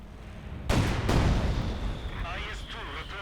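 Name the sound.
fuel cache destroyed in Company of Heroes 2 video game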